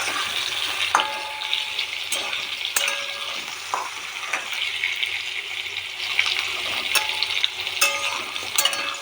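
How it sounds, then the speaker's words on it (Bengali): Potatoes frying in oil in a pan, a continuous close sizzle broken by sharp metallic clinks and scrapes of a spatula stirring at irregular intervals, with no talking. "এখানে আলু ভাজা হচ্ছে।"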